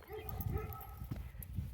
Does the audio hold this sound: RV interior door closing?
no